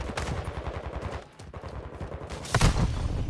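Rapid bursts of automatic gunfire crackle close and loud in a Call of Duty: Modern Warfare II match, pausing briefly before another heavy volley erupts.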